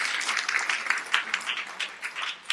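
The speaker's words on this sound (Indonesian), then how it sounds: "Tepuk tangan yang meriah untuk kemuliaan." Congregation applauding at a church service, a steady wash of many hands clapping with dense, even texture throughout, moderately loud and unbroken.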